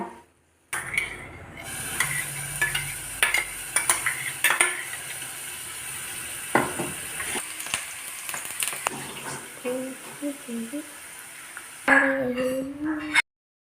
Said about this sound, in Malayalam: അതിലേക്ക് ഇനി കുറച്ച് ഇച്ചിരി വെളിച്ചെണ്ണ ഒഴിച്ചിട്ട് നമ്മൾ അരച്ച കൂട്ട് അതിലേക്ക് ഇടാം കേട്ടോ